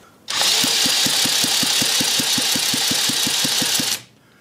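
A Lynx15 engine, suspected of losing compression at the cylinder head joint, is turned over and runs for about four seconds with a fast, even chuffing beat, loud and close, then cuts off abruptly.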